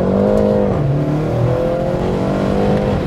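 A BMW G20 330i engine runs loud and close, its tone rising and shifting smoothly as revs change, with a steady throaty drone and no talking.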